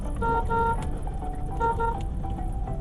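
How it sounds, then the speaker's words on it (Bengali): Car horn honking in traffic, several short repeated toots in quick bursts over steady road rumble and engine noise. "হর্ন বাজান"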